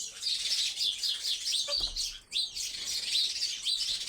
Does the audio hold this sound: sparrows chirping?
yes